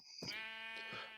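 A cow in the video game TerraFirmaCraft lets out a single weak, thin, bleating moo, close and fairly quiet, lasting about a second.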